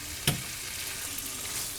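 Tortillas frying in a pan for tostadas, a steady, even sizzle throughout with one sharp clink near the start and no talk.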